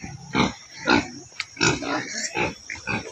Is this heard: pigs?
yes